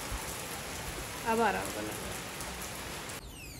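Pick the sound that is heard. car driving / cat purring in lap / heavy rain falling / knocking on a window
heavy rain falling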